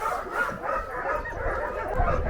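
Sled dogs at a dog camp in the Yukon barking and whimpering, several animals yipping and whining close by in a continuous, restless chorus.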